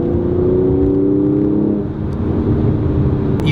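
A Mercedes-AMG C43 coupe's V6 engine revs with a loud, steady drone that climbs and holds for about two seconds, then settles into a lower rumble, with no voices.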